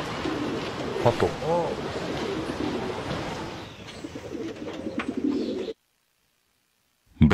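Pigeons cooing in soft repeated throaty calls amid outdoor background noise, with a voice briefly speaking, before the sound cuts off to silence.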